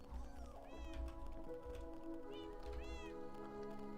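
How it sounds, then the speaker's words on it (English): Cat meowing in the Minecraft video game, several rising-and-falling game meows repeating over a steady background of game music and ambience. "Cat, why did you just get stuck like that?"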